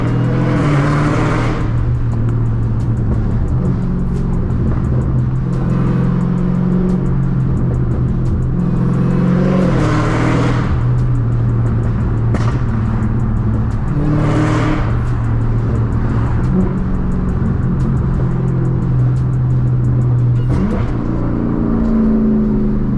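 A 1000-horsepower Dodge Challenger SRT Hellcat Redeye roars on city streets, its engine droning loudly and steadily with several sharper revving surges spaced a few seconds apart, heard close up with no voices.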